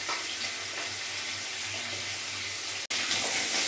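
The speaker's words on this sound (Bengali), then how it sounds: "একটু লাল লাল করে মাছ আমি ভেজে নেব" Pieces of rohu fish frying in hot oil, a steady, dense sizzle close by, broken once by a brief cut near the end, with no talking.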